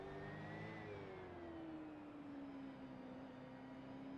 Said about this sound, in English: Listen to the control of the throttle on that car.